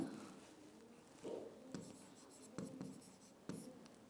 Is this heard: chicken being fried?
no